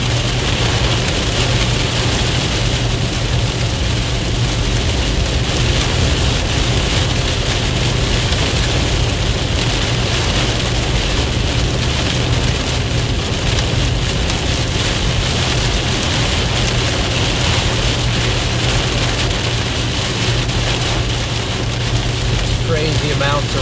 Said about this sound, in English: Crazy amounts of rain,